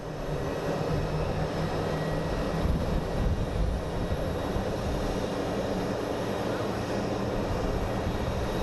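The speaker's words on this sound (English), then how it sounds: "here we have a CRJ pushing back" A CRJ regional jet pushes back at Phoenix Sky Harbor airport, its engines making a constant, loud, broadband roar. The sound holds steady through the whole stretch, and a voice can be faintly heard talking beneath it.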